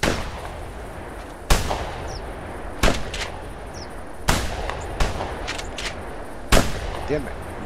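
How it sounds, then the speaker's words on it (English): Hunting gunfire on a pheasant hunt in The Hunter: six or seven sharp, separate shotgun-like cracks spaced over several seconds, each with a short echo, over a quiet outdoor background. "No, I was just shooting at yours for fun."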